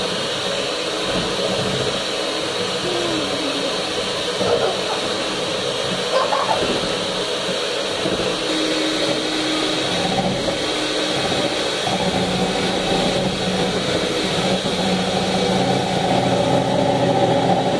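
An electric mixer whirs in a steady, continuous motor drone held close for the whole stretch, with slight wavers in pitch and a few faint knocks as it beats.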